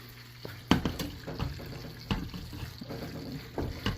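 Water gurgles and splashes unevenly through a hose draining a 90-gallon coral reef aquarium, close by with irregular bubbling surges and slurps.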